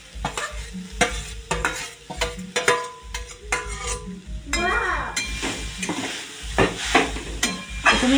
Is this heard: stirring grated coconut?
yes